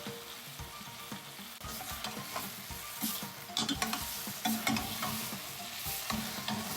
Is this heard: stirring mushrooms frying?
yes